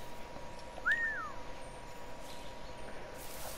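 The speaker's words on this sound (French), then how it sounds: "On siffle le monsieur pour pas qu'il vienne nous faire chier." A game character in Assassin's Creed 4 Black Flag whistles once to draw a guard's attention, a single short rising-and-falling whistle heard over steady background ambience.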